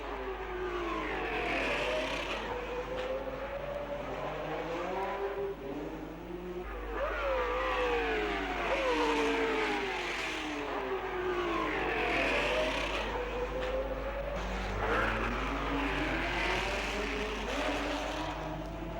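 Formula One race cars at the 1960 Monaco Grand Prix, a pack of six closing on the leaders past the gasworks, their engines rising and falling in loud, steady revving sweeps that swell as they pass.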